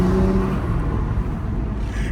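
BMW M2 with its valvetronic exhaust valves closed, giving a muted, steady low engine drone and rumble, close and fairly loud throughout with a brief higher tonal note at the start.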